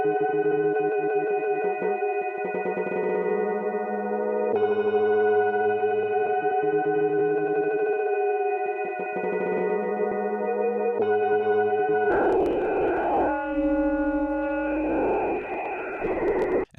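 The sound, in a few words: Ableton texture warp granular effect with flux, grain size 2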